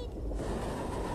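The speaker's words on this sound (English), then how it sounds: "Oh, it's a train." A train rumbles in the video game Abe's Exoddus, a brief steady low roar with a rushing hiss that brightens after a moment, heard alone.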